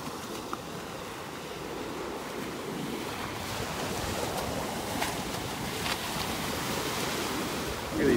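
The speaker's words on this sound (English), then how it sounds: "Look at these waves. Listen to them." Ocean surf at Delnor-Wiggins beach in North Naples, Florida, rolling and washing onto the shore in a steady roar, with wind buffeting the microphone.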